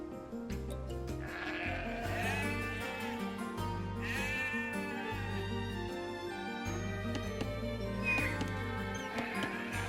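Sheep bleat repeatedly in Age of Empires II Definitive Edition, several wavering calls rising over a steady, busy game music bed that plays throughout.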